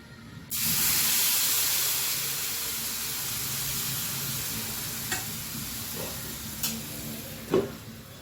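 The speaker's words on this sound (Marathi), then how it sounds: "मी कावीला तेल लावून घेतलं आहे आणि पुन्हा मी हा डोसा घालतो" Rava dosa batter hits an oiled pan with a sudden loud sizzle, then settles into a steady hiss with a few soft clicks and spatters near the end.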